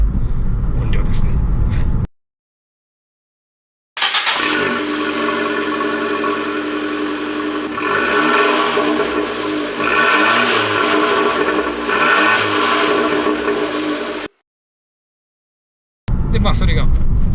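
An Abarth car engine idling loudly with a deep rumble, rising in a few revving swells, broken by short silent cuts.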